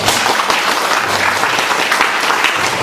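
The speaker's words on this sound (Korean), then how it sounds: "우리 남자분들 너무 귀하시고 박수 한번 쳐드리세요" A church congregation claps for the men in attendance during a sermon, with dense, steady applause filling the whole stretch at close range and no speech over it.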